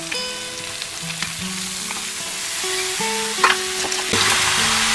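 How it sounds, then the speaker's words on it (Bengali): Onions and mixed vegetables fry in a pan for a Bengali chuno fish chorchori, giving a steady close sizzle with scattered stirring clinks and scrapes throughout. "পেঁয়াজ হালকা লাল লাল করে ভাজা হয়ে গেলে সব সবজিগুলো দিয়ে দিতে হবে"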